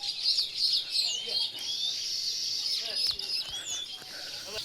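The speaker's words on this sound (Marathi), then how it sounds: "सुगरण पक्ष्याचा किलबिलाट बघा." Baya weaver birds chirping busily in a rural farm setting, a dense continuous twittering of many birds close by, with brief rustles and faint background noises.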